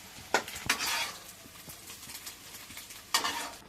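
Small egg pieces fry in a pan for fried rice, a faint sizzle broken by three sharp scraping stirs of a utensil against the pan, no voices.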